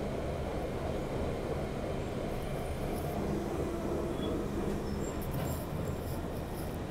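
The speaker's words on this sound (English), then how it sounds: "It's just such a pure sound that the 1992 stock makes." A low, steady drone from a London Underground 1992 stock train approaching Shepherd's Bush, heard from on board: a continuous rumble with faint higher whines and squeals at times, no talking.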